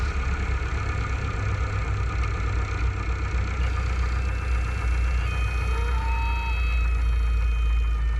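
A Cessna 152's engine with power pulled to idle: a steady low drone with a constant hum and a faint rising whine, loud and continuous with no talk.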